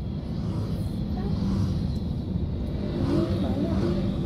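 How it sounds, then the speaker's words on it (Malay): Airplanes at a busy airport on Penang's Bayan Lepas side, jet engine rumble swelling and fading at a distance under a broad roar, with people chatting nearby. "Banyak sangat kapal terbang."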